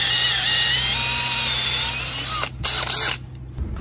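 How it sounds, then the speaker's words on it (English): A power drill boring holes into freshly cut logs for shiitake mushroom inoculation in bush regeneration work, a steady loud motor whine with a few brief pauses and restarts toward the end, no talking. "So once we've done the hammering, we'll come through and drill holes."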